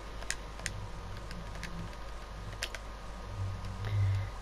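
Keyboard typing inside the PS4 game Dreams, a steady run of light, quick key clicks heard close and alone, with no talking.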